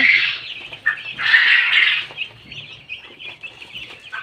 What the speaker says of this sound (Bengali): এগুলো হচ্ছে আমার পোষা মুরগি